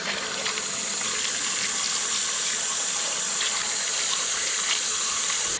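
Freshly dug potatoes rinsed under a running tap at an allotment, a steady, close, continuous gush of water splashing over them without pause until it cuts off at the end.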